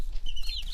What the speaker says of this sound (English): the chickens are my brother's chickens. They're pretty cool little chickens.